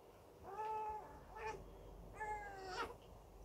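A cat meows twice close by, each a drawn-out wavering call, the second longer than the first, over a quiet room.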